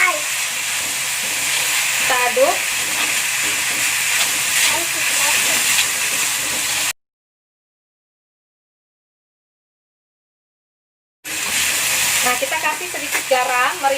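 Rice vermicelli filling for vegetable pastel being stirred in a hot pan, a steady loud hiss and sizzle with scraping under talk, cut by a few seconds of total silence before the frying resumes.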